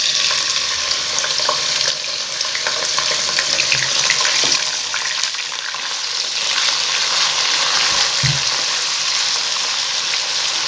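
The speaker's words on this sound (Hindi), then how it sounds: "मैं इसमें मीडियम साइज़ की बारीक कटी हुई प्याज डाल दूँगी।" Finely chopped medium onions fry in oil for jeera rice, giving a loud, steady, close-up sizzle with a few soft stirring knocks.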